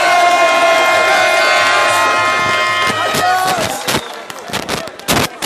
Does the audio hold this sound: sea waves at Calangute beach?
no